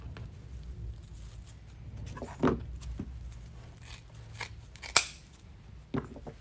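Scissors snipping off the end of spring deco-mesh wreath material: a few crisp, separate cuts spaced over several seconds, one sharper and louder than the others, over quiet rustling, no voices.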